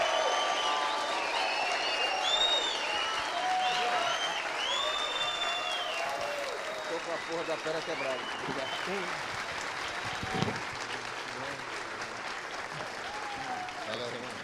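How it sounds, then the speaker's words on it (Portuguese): An audience applauds steadily as honoured guests come up onto the stage at a political event on labour reform, a dense sustained clapping with cheering voices mixed in, tapering off slightly toward the end. "eu quero uma salva de palmas para eles"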